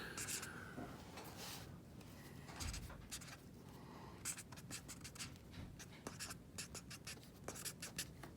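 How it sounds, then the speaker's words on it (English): Pen scratching across paper as a formula is written out by hand, a string of short, faint scribbling strokes with brief pauses between them. "I will write the formula down here"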